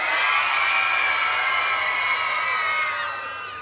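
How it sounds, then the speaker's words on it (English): A crowd gives a big sustained cheer at a Christmas lights switch-on in Ballyclare, a loud steady roar of voices with whoops that holds for several seconds before easing off. "if you give me a big cheer"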